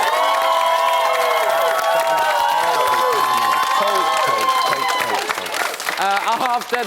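Studio audience applauding and cheering on a celebrity reality show panel, sustained clapping with whoops and music mixed in, loud and close, easing off near the end.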